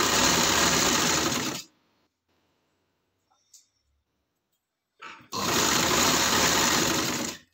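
A sewing machine stitches a sleeve onto a kurti, running in a fast, loud, continuous whir, pausing for a few seconds with faint handling noises, then starting up again at full speed.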